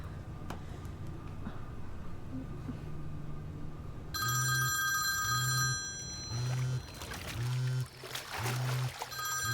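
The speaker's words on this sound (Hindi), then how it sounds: "नहीं, फोन मत उठाना।" A telephone bell rings in repeated bursts, loud and close, after a few seconds of quiet room noise.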